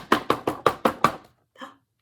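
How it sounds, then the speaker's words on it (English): Six evenly spaced, hollow knocks on a tree trunk follow one another quickly and close, then stop, followed by a faint brief sound after a pause. "Knock on the trunk. Ready? Let's knock, knock, knock."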